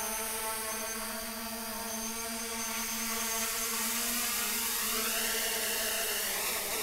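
A Bugs 3 Pro quadcopter drone hums with a steady high-pitched whine of its rotors as it descends slowly, the pitch shifting downward near the end as it comes in to land close by.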